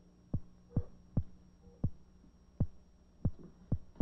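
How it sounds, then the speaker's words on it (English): Electric eel discharges picked up by electrodes in its tank and played through a loudspeaker: a steady series of about nine sharp, low thumping pulses at roughly half-second intervals, over a soft hum. "if we put an electrode at each end of the tank, we can hear the electrical discharge on a loudspeaker."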